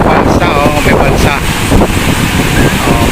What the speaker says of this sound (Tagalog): Mahangin dahil sa bagsak ng tubig.